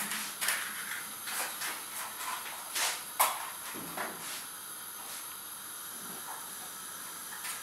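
A pan set over a gas stove flame hisses steadily, with a few sharper crackles and bursts over the continuous sizzle, at moderate level with no talk.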